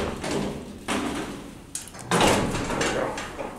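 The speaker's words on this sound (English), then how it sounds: "Reset or just lift the door up and close it." Hydraulic freight elevator door at a mall is lifted and pulled shut, giving several rumbling, scraping slides of metal with a heavier clunk near the end, heard up close.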